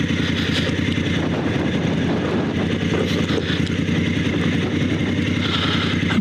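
Dual sport adventure bike on Shinko 705 tires descending a dirt hill with ABS off, its engine a steady close rumble with irregular rhythmic pulsing throughout, no voices.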